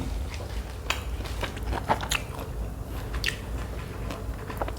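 Crunchy pork rinds are bitten and chewed close up, with repeated crisp crackling crunches in an uneven rhythm throughout.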